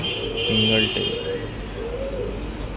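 A pigeon coos softly nearby, a low throaty call over steady background hum, with a person talking around it.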